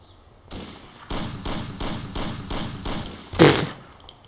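Rapid bursts of gunfire in the game Mafia with the Gunsmith mod, about seven evenly spaced loud shots in a steady rhythm, ending with a heavier blast.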